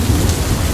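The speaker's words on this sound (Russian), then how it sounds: "Вновь меня на перевале настигает гроза." A thunderstorm on a mountain pass in the Western Sayan: heavy, loud rain roars steadily with deep rumbling thunder underneath, dense and continuous throughout.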